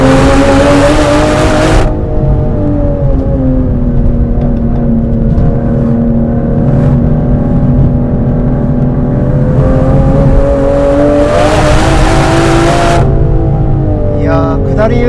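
A 2025 Aston Martin Vanquish accelerates hard uphill on a winding road, its engine note rising and falling steadily through the clip with brief louder surges, loud and close throughout.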